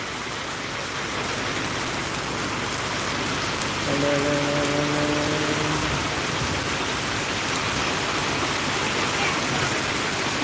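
Heavy rain pours steadily in a Tamil village, a dense, even roar that fills the whole stretch with no breaks, a brief low tonal hum rising briefly in the middle.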